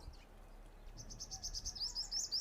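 Many small birds chirp and tweet in a dense, rapid chorus at a bird feeding shelter where squirrels also gather, moderately near and steady with no talking.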